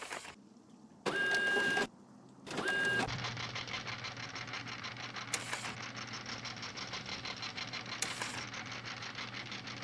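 A broken plotter in a Nancy Drew game starts with two short mechanical bursts, then settles into a steady whirring, clattering run with a low hum and occasional sharp clicks.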